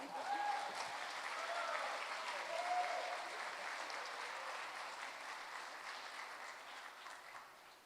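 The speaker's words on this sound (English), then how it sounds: "Give him one more big round of applause" An audience at the Mayor's Education Awards in Smyrna claps steadily through a long round of applause that slowly fades toward the end.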